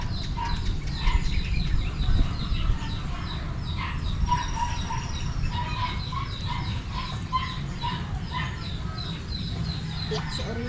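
Chickens cluck steadily at close to middle distance, with a rooster crowing now and then over a constant rough background noise.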